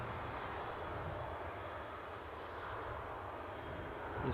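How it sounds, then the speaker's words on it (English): An EasyJet Airbus A320 on final approach near Newcastle Airport gives a faint, steady distant engine roar and broadband rush that holds evenly and swells slightly at the very end. "An EasyJet A320 somewhere near finals"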